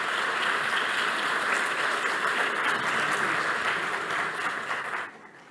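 Crowd applause for participants at a public works-for-taxes program event, steady and dense for about five seconds before fading out at the end.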